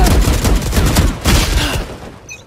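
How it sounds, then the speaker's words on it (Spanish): Loud, dense gunfire in Valorant, with several overlapping shots and bursts crowding the whole moment, close and harsh, tailing off slightly at the end. "Jolines, Cristian, estoy disparando a otro."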